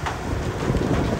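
A dense, steady wash of rain and storm noise with low rumbling beneath during a rain and thunder squall along a Lahore to Karachi train journey in Pakistan; individual hail impacts are not distinct.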